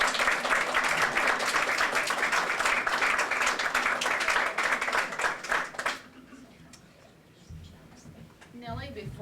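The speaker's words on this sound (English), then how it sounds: "Round of applause," An audience at a women's achievement awards ceremony claps loudly and steadily for about six seconds, then the applause stops abruptly, leaving quiet room noise and faint rustling.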